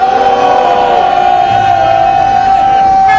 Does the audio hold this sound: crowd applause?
yes